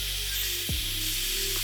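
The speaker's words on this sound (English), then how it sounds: "get a wet wipe and then spray it with some alcohol to clean my edges" Alcohol sprayed from a spray bottle onto a wet wipe, a steady close hiss filling the whole short moment with no talk over it.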